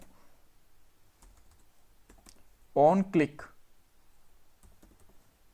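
Soft keystrokes tap on a computer keyboard while code is typed, scattered light clicks spread across the moment, with a brief spoken phrase in the middle.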